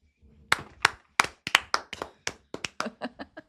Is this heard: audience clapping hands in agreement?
yes